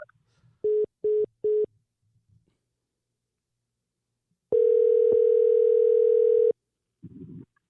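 A telephone ringback tone pulses three short beeps, then after a silence sounds one long steady tone lasting about two seconds while a call waits to be picked up, followed by a brief noisy rustle.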